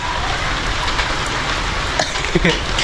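Steady rain falls in cold weather, a dense, even hiss of drops close by with a few louder taps near the end and faint voices underneath.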